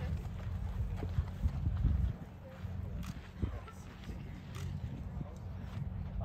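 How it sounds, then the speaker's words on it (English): Horse hooves clip-clopping on the ground at a CCI 3-star eventing competition, a steady rhythmic patter close by with a commentator talking over it. "Elisa's second horse in this 3-star, number 49, Lissavorra Quality."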